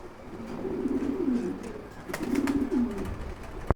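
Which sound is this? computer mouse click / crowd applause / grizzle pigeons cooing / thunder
grizzle pigeons cooing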